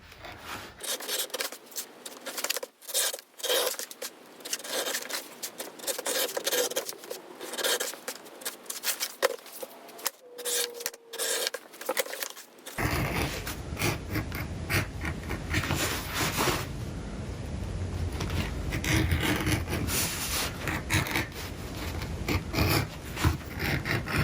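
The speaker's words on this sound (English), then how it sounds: "then we'll get to burnishing the edges" Leather edges on pieces for a tool pouch are burnished by hand, a steady scratchy rubbing that runs continuously and close up, turning coarser and fuller partway through.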